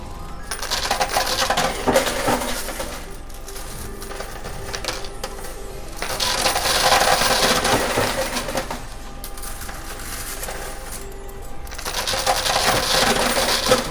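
Coins drop and clatter steadily in a high-limit coin pusher machine, a continuous metallic jingling that swells in waves every few seconds, loud and close with no talking.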